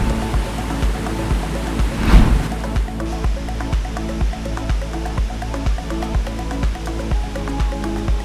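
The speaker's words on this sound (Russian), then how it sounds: "Высота водопада Селджландсфос – 60 метров." Seljalandsfoss, a 60-metre waterfall in Iceland, pours down in a steady, dense rushing roar that holds evenly throughout with no voices.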